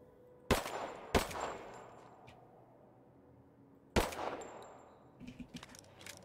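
Gunfire from the video game Rise of the Tomb Raider: three sharp, loud shots, two close together early and one later, each with a brief ringing tail, followed by a few softer clatters.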